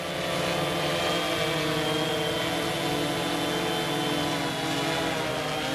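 A Mariner drone hovers with a steady, loud, high propeller whine that holds level throughout, close and with no voices.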